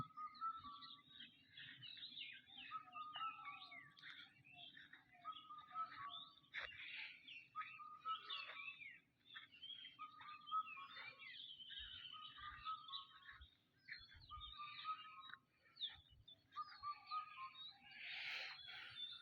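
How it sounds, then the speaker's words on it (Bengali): Several kinds of birds call and chirp continuously beside a watermelon field and sunflower field on a misty late-winter morning, quick repeated twitters at moderate distance against a quiet rural background, with no talking. "কলকাকুলি শোনা যাচ্ছে"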